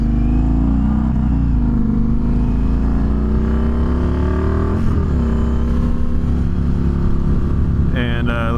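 An Indian FTR 1200 motorcycle engine drones loudly and steadily up close while riding, its pitch rising and falling through gear changes, with a brief shift near the end.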